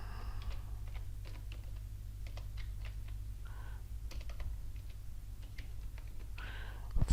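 Someone types on a computer keyboard in bursts of quick, close clicks over a low steady hum, while entering accounting entries in payroll software. A voice speaks faintly in places.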